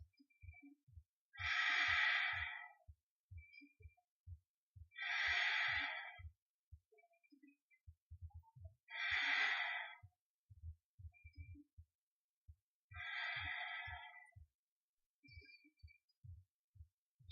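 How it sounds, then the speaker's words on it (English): Slow ujjayi breathing during a yoga pose, four long hissing breaths spaced evenly a few seconds apart, soft and close, with faint low thumps in between. "We're still keeping the ujjayi breath."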